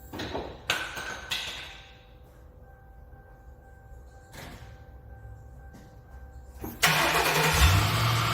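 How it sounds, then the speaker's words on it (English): Ford Crown Victoria rear-wheel-drive car engine being started: a few clicks and thumps, then the starter cranks and the engine catches with a loud surge and settles into a steady rumbling idle. "I'm gonna go ahead and start the car"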